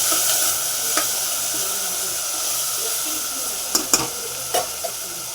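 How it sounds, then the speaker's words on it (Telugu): Ginger garlic paste frying in oil for bagara rice, a steady close sizzle with occasional spatula stirs and light scraping clicks near the end, no talking. "దీంట్లో అనేది మనం వన్ టేబుల్ స్పూన్ వరకు అల్లం వెల్లుల్లి పేస్ట్ వేసుకుందాం ఇది అనేది ఆయిల్ అనేది బాగా పచ్చివాసన పోయే వరకు వేగనిద్దాం"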